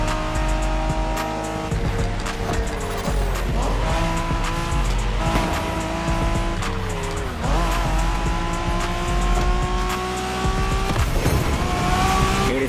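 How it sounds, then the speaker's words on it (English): Japanese street racing cars in The Crew Motorfest game, loud engines revving and shifting up through gears with tire squeal and skids, continuous close racing action without talk. "We're going for some proper Japanese street racing"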